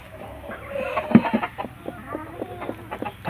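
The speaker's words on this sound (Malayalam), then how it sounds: "നന്നായിട്ട് അടയിരിക്കുന്ന ഒരു കോഴിയാണിത്." A brooding hen sitting on black chicken (karinkozhi) eggs gives soft, low, repeated clucks and grumbles, close by and fairly quiet, at an uneven pulse.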